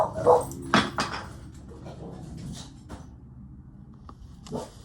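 A dog barks indoors in a few sharp, separate yips and woofs up close, with quieter whimpering in between and a final short bark at the end.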